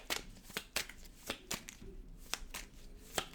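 Tarot cards are shuffled by hand in a series of quick, crisp riffles and taps, about a dozen sharp bursts at close range.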